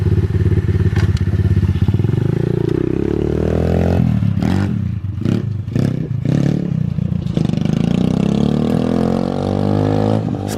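Motocross bikes idle and run outdoors, a loud close engine drone that climbs in pitch, then breaks into revs with knocks and clatter before settling back to a steady idle.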